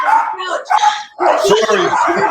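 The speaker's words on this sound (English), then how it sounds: "the dog's going nuts" A pet dog barks and yips excitedly indoors at home, loud and close, in bursts that mix with and overlap people talking nearby.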